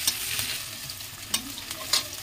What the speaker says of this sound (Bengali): পেঁয়াজটা একটু লাল লাল করে ভেজে নেবো এখন